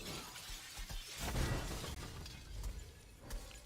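Crystal soldiers shattering in the video game SMITE, a dense glassy crash with bright splintering debris that keeps tinkling and breaking in bursts, loud and close, with no voices.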